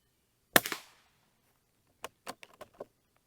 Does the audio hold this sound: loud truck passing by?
no